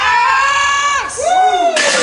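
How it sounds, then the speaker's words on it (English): People at a small strength gym whooping and yelling encouragement for a lifter, close, loud, rising and falling shouts. "It's just the cheer of people."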